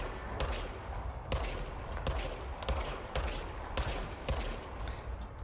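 Repeated gunfire from a gun in the video game Control, a series of loud sharp bursts at a steady rhythm of roughly one shot every half second or so, dense and close with no talking.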